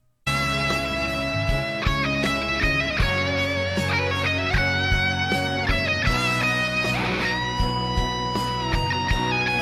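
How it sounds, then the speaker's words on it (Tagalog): Gibson Les Paul electric guitar playing a song with band backing, sustained harmonic notes and a fast lead run over steady rhythm, loud and continuous throughout. "Ang ganda ng tunog ng Les Paul na gitara."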